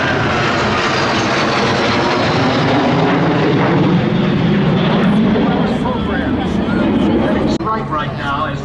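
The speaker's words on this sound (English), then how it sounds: "the Big 29 leads the Alpha Jets in the big formation" A B-29 bomber leads Alpha Jets in a big formation overhead at the Oshkosh airshow, a loud, sustained roar of piston and jet engines that fills the sky and swells steadily as they pass.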